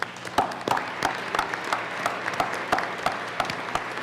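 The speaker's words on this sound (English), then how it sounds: "Members, join us in a round of applause." Senators in the Colorado Senate chamber applaud visiting guests, a moderately dense round of clapping with distinct sharp individual claps punctuating a steady patter, heard from across the room.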